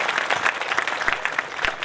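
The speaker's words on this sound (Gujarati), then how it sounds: "આપણે તાળીઓથી વધાવી લઈશું." Applause from a church congregation gathered at a Catholic pilgrimage Mass, a dense, steady patter of many hands with a few louder claps standing out, filling the whole moment without any speech.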